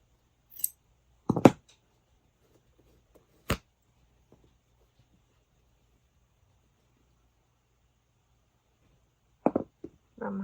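Scissors snip crochet yarn on a handmade bag in a few sharp, close cuts spaced apart with quiet gaps between them, then a quick cluster of snips near the end.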